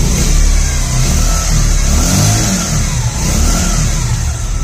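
A motorcycle in a bike showroom revving hard, a loud, continuous, throaty engine roar that swells and eases slightly, heard close and on its own.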